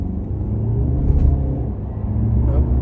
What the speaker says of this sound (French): on va faire une accélération poussée et on va freiner juste derrière